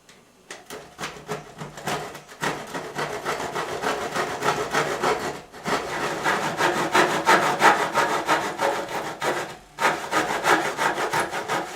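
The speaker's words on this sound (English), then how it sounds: "We're going to tilt the blade such that it creates a back cut" Hand saw back-cutting wooden baseboard trim at a tilted blade angle, close loud rhythmic rasping strokes running continuously with brief pauses between runs.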